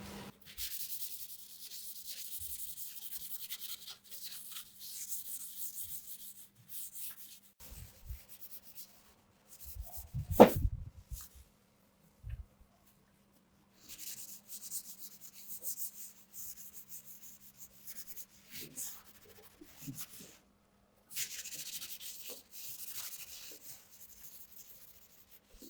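Thick paint being sanded off a Jaguar E-Type, with close, faint abrasive rubbing in long bursts broken by pauses and a single sharp knock midway.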